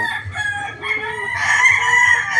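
A WPC gamefowl stag crows in a single loud, close, drawn-out cock-a-doodle-doo, standing alone with no talk.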